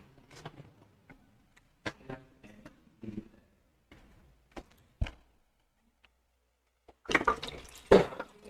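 A person drinks water in a quiet room, with a few soft sips and small liquid clicks spread out, followed by a louder burst of gulping and handling noise near the end.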